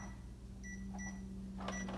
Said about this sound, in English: this goes in the microwave for 18 minutes. So let's put that on right now